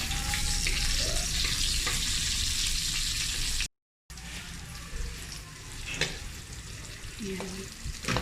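Onions sizzling and frying steadily in a hot pan, a loud, continuous, close crackle with an occasional clink of a utensil, briefly cut by a short gap of silence.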